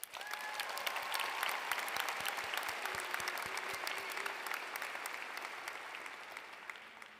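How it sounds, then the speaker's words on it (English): Sustained applause from a large audience at a Boise State University spring commencement ceremony, a dense even patter of many clapping hands that fades slightly toward the end. "Let's give a big round of applause to all of our parents, family and friends, faculty and staff who came to help us celebrate our huge accomplishments"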